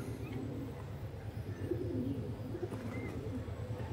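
Purple-footed pigeons coo softly and continuously in overlapping murmurs, close by, with a few faint chirps mixed into the steady flock sound.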